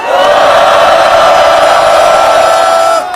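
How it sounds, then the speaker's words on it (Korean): A large outdoor crowd at a candlelight rally cheers and shouts loudly, a sustained, close roar of voices and applause that holds steady before dropping off at the end. "여러분 더불어민주당 원외 지역위원장 협의회에 다시 한번 큰 박수와 함성을 부탁드립니다"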